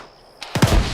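Close gunfire bursts from the video game Arma 3 in a squad exercise: a couple of sharp shots, then heavier booming reports rolling together over about half a second.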